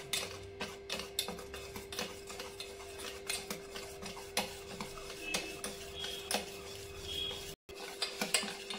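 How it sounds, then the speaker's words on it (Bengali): Eggless semolina sponge-cake batter is stirred in a bowl, making a steady run of rhythmic scraping clinks over a faint constant hum, with no voices. "ব্যাটারটা বেশ কিছুক্ষণ ধরে নাড়াচাড়া করে নিয়েছি।"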